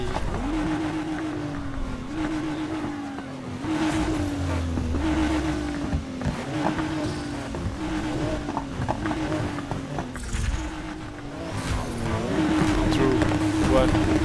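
Engines of a pickup truck and a sports car racing in Need for Speed Heat drone steadily, repeatedly climbing and dropping in pitch through the gears, with a tire squeal, under someone talking throughout.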